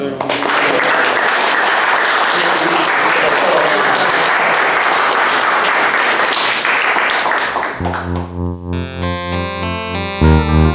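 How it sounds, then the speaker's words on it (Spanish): Loud, dense audience applause closing a book presentation, sustained and even for several seconds before giving way to music. "Cerramos con un aplauso para los muchachos."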